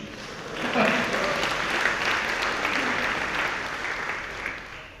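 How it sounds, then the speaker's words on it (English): An audience at a security conference keynote claps steadily, a moderately loud wash of applause that swells early and holds with some cheering and chatter mixed in. "we should have a round of applause for the projector"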